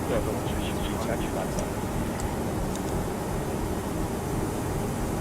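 A simulated airliner climbing out of Orlando after takeoff in the Prepar3D flight simulator gives a steady broadband engine and airflow roar throughout, with faint background talk.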